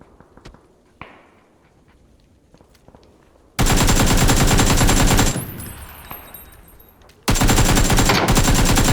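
Loud automatic gunfire from a shooting video game comes in two sustained bursts, the first dying down into lingering rattle and the second starting abruptly near the end, after a quieter stretch of scattered clicks and thuds.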